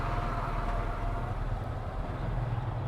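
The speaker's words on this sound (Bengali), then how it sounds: "এত বড় ট্রাক" A large truck engine rumbling nearby, a steady low, heavy drone that holds evenly through the short clip, with no talking.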